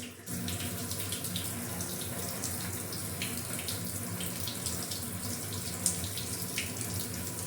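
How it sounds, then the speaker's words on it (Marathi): Water runs steadily from a kitchen tap as a potted bamboo plant is rinsed beneath it, a continuous close splashing rush with small uneven spatters and no talking. "नळाखाली स्वच्छ धुवून घेते."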